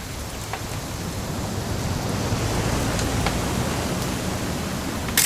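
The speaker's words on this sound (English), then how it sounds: "It's gonna rain the whole weekend" Steady rain pours down in the video game What Remains of Edith Finch, a dense, even hiss of falling water with a few scattered sharper drops, moderately loud and continuous.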